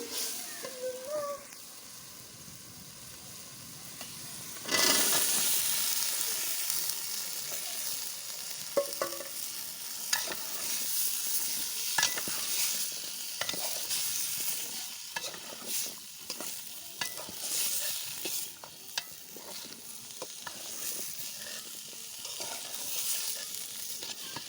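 Vegetables stir-frying in a pan, a sharp burst of sizzle as they go in, then a steady hiss broken by scattered clicks and scrapes of a spatula, moderately close.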